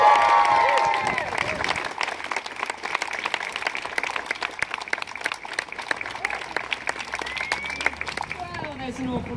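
An audience gives someone loud applause and cheering, with dense clapping that fades slightly, then a voice speaks near the end.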